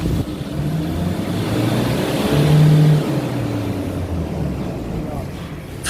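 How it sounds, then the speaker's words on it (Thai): A diesel pickup engine with sluggish running and black smoke idles roughly, then revs up to a louder, higher drone for a couple of seconds during a smoke test before settling back, with someone speaking over it. "เดี๋ยวเราก็จะทำการเร่งเครื่องเพื่อทดสอบควันดำค่ะ"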